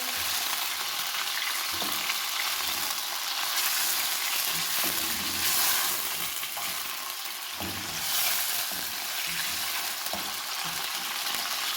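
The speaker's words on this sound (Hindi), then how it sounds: "8 से 10 मिनट फ्राई करने के बाद जैसे इसका कलर चेंज होगा" Chicken pieces frying in a karahi over a medium flame, a steady loud sizzle that fills the whole stretch, with occasional scraping stirs underneath and no talking.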